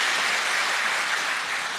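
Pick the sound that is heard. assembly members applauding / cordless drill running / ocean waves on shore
assembly members applauding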